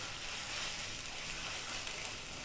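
A chicken curry, made without onion, sizzles and fries in a pan over high heat, a continuous crackling hiss that holds steady and close throughout.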